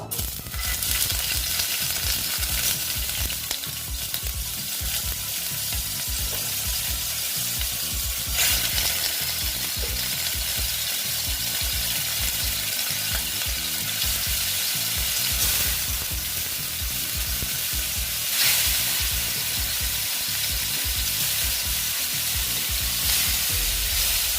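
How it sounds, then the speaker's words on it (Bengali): Katla fish frying in oil in a pan, a loud, dense, continuous sizzle heard up close with faint scraping and clatter, no talk. "একদম খুব সুন্দর ভাজা হবে"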